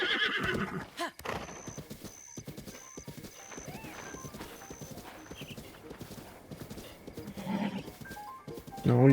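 A horse in a video game whinnies and snorts while its hooves clip-clop in a steady rhythm, close and fairly loud, with short bursts of other game noise and a louder whinny at the end.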